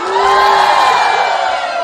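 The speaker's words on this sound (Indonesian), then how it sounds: "Tepuk tangan buat laki-laki hebat." A crowd cheers at an Isra Mi'raj religious gathering in Indonesia, loud sustained whooping and shouting voices, including children, rising together with no single speaker.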